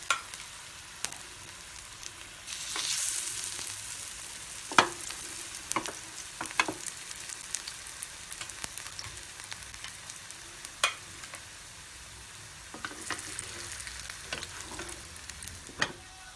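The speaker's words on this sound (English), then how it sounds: "carefully place your tikkia and fry them till crispy from both the sides" Moong and black gram sprout tikkis fry until crisp in a non-stick pan, a low, constant sizzle broken by occasional sharp clicks of a spatula turning them, with a brief louder hiss early on and no speech.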